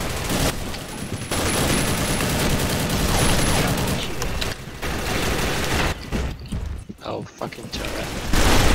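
Sustained automatic turret fire in the Combat Arms shooter, a dense continuous rattle through most of the stretch that breaks into choppier bursts near the end, with a player swearing over it.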